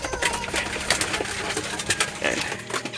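Pigeons being handled give soft, continuous cooing close by, with light rustling beneath the steady calls.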